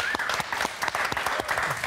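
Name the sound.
studio audience applause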